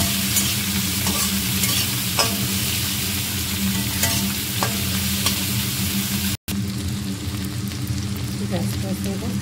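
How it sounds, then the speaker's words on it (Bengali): Onion and tomato sauce frying in a little oil, with a steady close sizzle and crackle and the rhythmic scrape of stirring running through it, briefly cut by a short dropout. "একটু নেড়ে নেব।"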